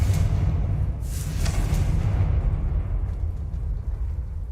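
Confringo blasting spell exploding in the Hogwarts Legacy video game, a loud booming burst with a rushing whoosh that rumbles on and fades slowly, no voices.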